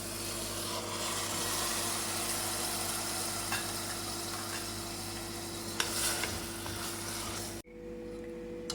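Spinach stirred and sautéed in a pan over medium heat for a spinach and cheese tart, a steady close sizzle with scraping stir strokes throughout, then a sudden drop to a quieter, fainter sizzle near the end.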